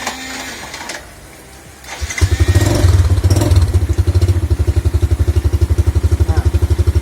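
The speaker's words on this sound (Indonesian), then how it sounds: "Nah, kita coba nyalakan motornya," A motorcycle engine cranks after a short pause, catches and settles into a loud, close, steady idle with a rapid even putter; no talk.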